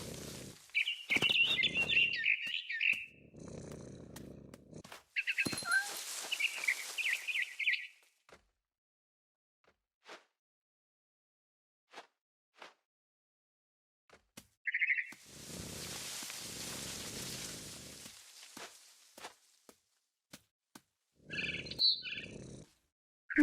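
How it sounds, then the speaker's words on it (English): Frightened bird chirping in What Remains of Edith Finch, bursts of high tweets and fluttery calls alternating with rustling noise and long quiet gaps, close and fairly loud. "I tried to be quiet, but the bird was really scared."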